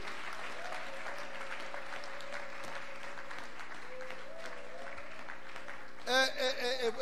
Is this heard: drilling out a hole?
no